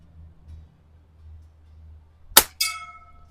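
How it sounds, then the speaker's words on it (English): A single sharp metallic clang as an air rifle pellet strikes an aluminum gong 25 yards downrange, ringing briefly after a quiet stretch with low background hum. "I've got my aluminum gong at 25 yards"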